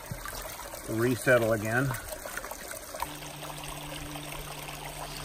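Water sloshes and washes steadily through a high banker gold sluice beside a dredge, a constant near rushing trickle, with someone speaking briefly over it and a low motor hum joining partway through.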